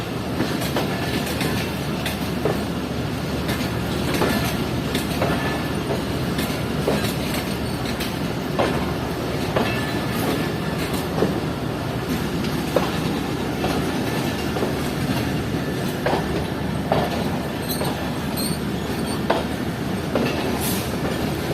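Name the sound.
passenger train running on the tracks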